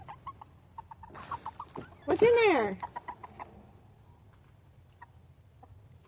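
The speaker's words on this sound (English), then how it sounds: "I got my hens over here pecking." Hens clucking around a chicken coop, with a loud rooster-like squawk in the middle, scattered short clucks and pecking taps before and after, and a person speaking briefly nearby.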